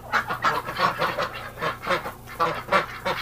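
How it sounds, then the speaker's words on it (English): Ducks gathered on cold water give repeated honking, quacking calls in a steady run of bursts, fairly close and loud, with a low hum beneath. "Ducks, you're ridiculous."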